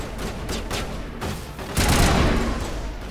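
A series of sharp explosions and bursts of gunfire from the video game Mass Effect, with several close blasts early and then a heavier, louder boom that rumbles on.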